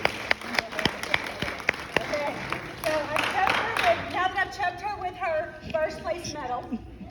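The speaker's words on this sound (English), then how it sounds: "Let's give her another round of applause." Audience at an award presentation claps in scattered, sharp bursts at first, then the clapping thins as a voice begins speaking over the fading applause.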